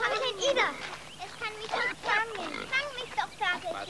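A pig grunts and oinks repeatedly while being chased around in a farm scene, squeals and grunts coming in quick bursts, close and lively, with children's voices mixed in.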